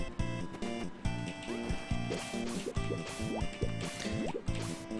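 A frog character splashes and paddles through water in Kero Blaster, with bubbly, dripping liquid sounds repeating over steady chiptune game music.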